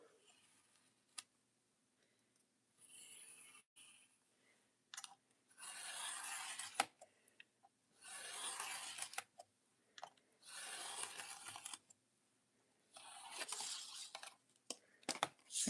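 Blade or cutter slicing a journal cover panel in bursts of crisp scraping strokes, close and fairly quiet, separated by pauses and occasional sharp taps and clicks.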